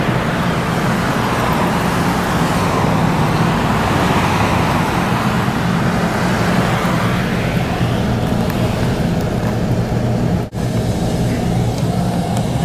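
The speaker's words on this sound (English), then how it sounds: "There's traffic coming off from Taylor Road." Road traffic flows near the junction of Boggsford Road and Taylor Road, a steady loud roar of passing cars and heavier vehicles close by, with a brief dip near the end.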